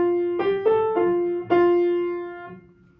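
The cradle song tune for the hymn "Away in a Manger" plays as a short, sustained melody of a few smooth, held tones that fades at the end, heard alone without talk.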